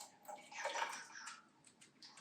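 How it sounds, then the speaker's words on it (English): A drink is poured over ice in a glass, giving a faint, soft splashing and gurgling pour that rises briefly and then trails off into quiet trickles. "So now I'm gonna pour this in over the ice."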